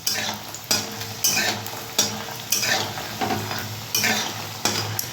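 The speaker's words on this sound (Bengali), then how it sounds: "তেল গরম হয়ে গেছে প্রথমে বড়িটা ভেজে নেব" Small bori lentil dumplings frying in hot oil, a close continuous sizzle broken by regular stirring strokes about every second or so.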